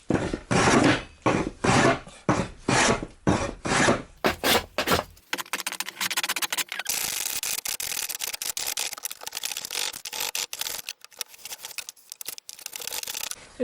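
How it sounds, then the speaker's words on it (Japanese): A hand plane shaves a plywood gap panel inside a van being fitted out for sleeping, giving a series of rhythmic rasping strokes first, then a steadier continuous scraping that runs on to the end. "こちらもビスを打ってずれないようにしてカンナで削っていきます"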